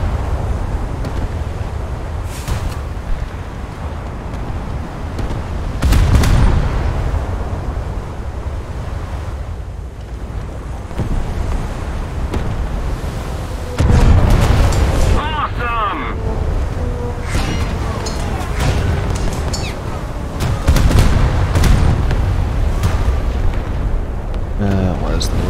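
In a naval warfare video game, heavy gun blasts and explosions go off at irregular intervals over a constant roar of sea and wind, with faint voices in the background.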